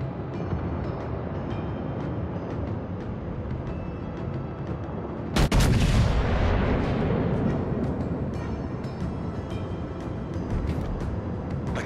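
Heavy naval gunfire in World of Warships: Legends, a loud booming blast midway that rolls into a long rumbling decay over a constant low background drone of engines and sea.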